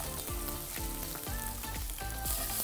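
Onion, green chilli and ginger sizzle loudly in a hot pan for upma, a steady close frying crackle with repeated scraping stirs, and no talking.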